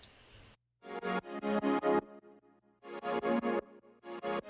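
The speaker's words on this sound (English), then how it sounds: "the only difference is we include a high end pad" Punchy future bass synth stabs play in short rhythmic bursts, layered with a bright, airy high pad that adds shimmer above the drop.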